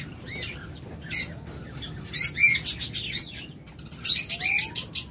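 Java sparrows at a bird sale give bright, high chirps in quick bursts and clusters, loud and close with short pauses between, plus a brief flutter of wings.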